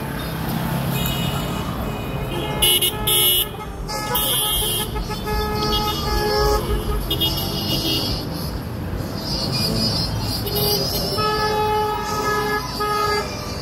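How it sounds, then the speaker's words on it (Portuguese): Several car horns honk amid street traffic in Pontal do Araguaia, Mato Grosso, with short toots and longer blasts in two bursts, separated by a stretch of engine noise. "Buzina para Jesus."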